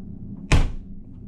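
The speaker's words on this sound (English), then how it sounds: "it's kind of hard to like not close this door." One sharp, loud thud of a cruise ship cabin door shutting close by, over a low background hum.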